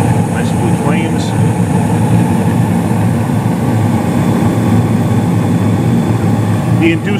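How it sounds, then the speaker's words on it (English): A Carrier gas furnace runs steadily with its inducer motor and main blower, giving a constant low broadband whoosh and hum throughout, with a few faint clicks and a brief voice in the background. "the main blower did come on, I think, like I said, about 23 seconds after burner ignition"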